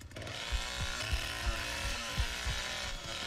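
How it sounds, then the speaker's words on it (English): Chainsaw running in The Texas Chainsaw Massacre video game, a steady droning engine whine held throughout with rhythmic low revving pulses, loud and close, with no talking. "Gonna overheat my chainsaw."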